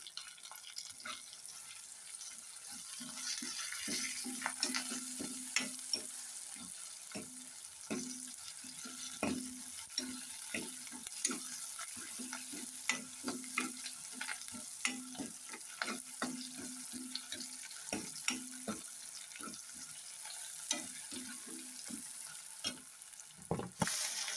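Tomatoes and curry leaves frying in a pan with onions, a steady soft sizzle broken by scraping stirs and light clinks, close and fairly quiet, with no talking.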